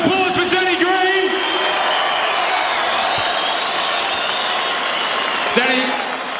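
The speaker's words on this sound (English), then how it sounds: "A round of applause for Danny Green." A crowd at a home main-event boxing night applauds Danny Green, a dense, steady wash of clapping and cheering that fills the whole stretch, with an announcer's amplified voice running over it.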